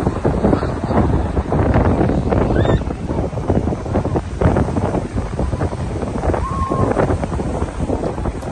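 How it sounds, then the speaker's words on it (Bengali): Cold wind blowing across the beach at Scarborough, North Yorkshire, a steady loud broadband rush and buffeting against the microphone throughout, with faint seaside sounds beneath and no clear voices. "যেমন ঠান্ডা জল তার মধ্যে তেমন ঠান্ডা হাওয়াও দিচ্ছে।"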